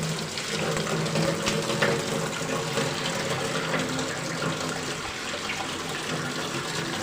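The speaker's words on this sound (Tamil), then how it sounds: "இப்போ தேங்காய் பால் எடுத்து ஊற்றிடலாம்." Coconut milk poured into a pan while cooking coconut milk rice, a faint steady liquid pouring and sizzling wash that runs evenly throughout without talk.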